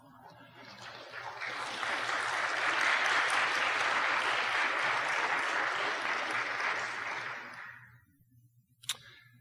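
Applause from a church audience after a sermon on religious intolerance rises quickly, holds steady and full for several seconds, then fades out, followed by a single sharp click.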